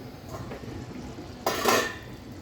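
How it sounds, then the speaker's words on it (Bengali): A spoon scrapes and clinks briefly through a pot of muri ghonto, rohu fish head cooked with moong dal and polao rice, one short burst of stirring over a quiet kitchen hum. "একটু নেড়ে চেড়ে দিচ্ছি"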